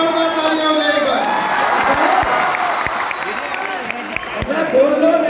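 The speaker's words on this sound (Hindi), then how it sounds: "पंकज सर के एक जोरदार तालियां हो जाए एक बार।" An audience in a classroom gives Pankaj sir a burst of applause and cheering, steady clapping from a crowd with a voice talking over it.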